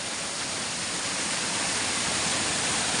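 A small village river running full after rain, a loud, continuous rushing roar of water with no breaks, close by and steady throughout.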